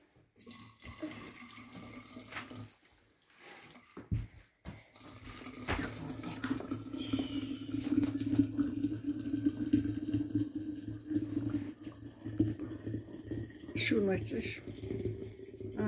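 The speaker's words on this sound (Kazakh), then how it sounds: "Сөйтеміз де қайнаған ыстық су құямыз" Boiling hot water is poured into jars, a steady, close gurgling stream that builds and rings as the jars fill, with brief pauses and clinks.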